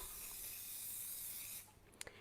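Cooking spray hisses from an aerosol can onto the base and edges of a brownie baking tin, one long steady burst that cuts off, followed by a few faint clicks.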